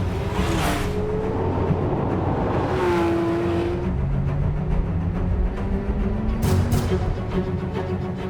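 A Porsche 911 R with a 500-horsepower, 8,500 rpm engine revs loudly and continuously, the pitch climbing and falling through several sweeping rises and drops as it passes, with no voices over it.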